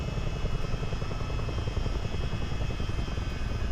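Steady rotor thump and turbine whine of a CH-47D Chinook tandem-rotor helicopter in flight within a multiplayer flight simulator game, a continuous loud drone with no talk.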